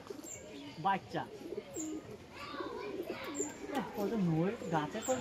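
Pigeons cooing close by among trees, several soft repeated throaty coos overlapping, with a person talking over them.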